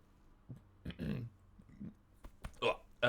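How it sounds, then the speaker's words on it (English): A man's deliberate burp during a live game stream of The Elder Scrolls III: Morrowind, a few rough, low gulping bursts spread across three seconds and ending in a louder belch, close to the microphone with no talk over it. "So I'm going to burp."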